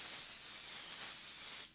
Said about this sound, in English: So now we're gonna take our pan, give it a good spray.